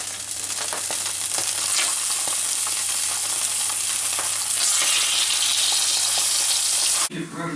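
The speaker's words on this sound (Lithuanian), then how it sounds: "Pirmiausia, atkepsime vištieną iš abiejų pusių." Chicken pieces frying in a pan in a school kitchen, a loud steady sizzle and crackle lasting several seconds with faint scraping, then cutting off abruptly near the end.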